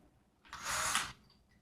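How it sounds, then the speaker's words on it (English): A power drill bores an inset for bolts in wood near a 2x4 during a dust collector modification, one steady, close whirring burst of under a second that starts and stops abruptly. "drill an inset, because the bolts aren't long enough"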